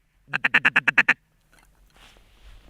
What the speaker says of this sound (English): The tutorial on how to blow a duck call